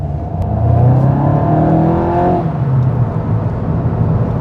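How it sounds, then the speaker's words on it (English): A 2025 VW Golf GTI's engine and exhaust in sport mode as heard from the cabin, a rising rev with a clear droning note that eases off after a couple of seconds into a steady hum, with no talking. "you can feel there's much more noise coming into the cabin, both from the engine and from the exhaust"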